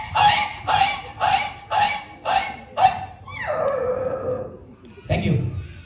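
At a live comedy show in Mumbai, a comedian's voice imitates a struck dog: six sharp, evenly spaced yelps, then a long falling whine and one last yelp, loud and close.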